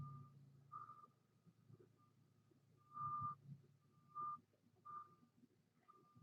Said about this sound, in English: Oh, I hear the plow going up the street.